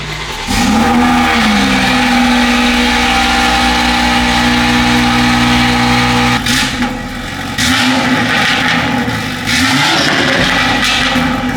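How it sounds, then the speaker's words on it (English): A BMW B58 engine with an M Performance exhaust cranks and fires up on a cold start, settling into a steady loud idle with a low hum, then a couple of brief revs near the end. "We're gonna give it a little cold start."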